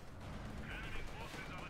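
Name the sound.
mortar firing in the video game Company of Heroes 2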